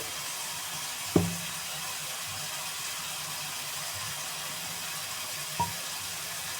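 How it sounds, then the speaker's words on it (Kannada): Chopped onion and tomato fry in a pan with a steady, even sizzling hiss, broken by two brief knocks of a utensil against the pan. "ಒಂದು ಕಡೆ ಈರು ಟೊಮೊಟೊ ಈರುಳ್ಳಿ ಫ್ರೈ ಆಯ್ತಾ ಇದೆ ನೋಡಿ"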